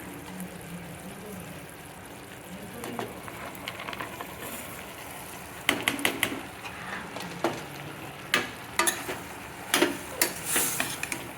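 Sago being stirred and mixed with a spoon inside a pressure cooker while making sabudana khichdi, with a soft hiss at first, then sharp, close scraping and clinking strokes in an irregular rhythm, no talk.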